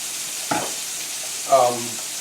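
Chicken breasts sear in olive oil in a hot pan, giving a steady close sizzle with two brief louder bursts of hissing crackle, and no talk over it.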